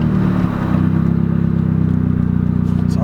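A turbocharged 1.8 Chevy Cruze budget build, fitted with 60lb injectors and running a revised tune, fires up close by and settles into a steady, throbbing idle that stays loud and even to the end.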